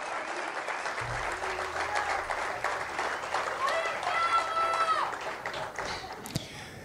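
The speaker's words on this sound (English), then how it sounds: "Applause here." Steady applause from an audience at a political speech in Argentina, continuous crowd clapping under a faint voice, with a brief low thump partway through.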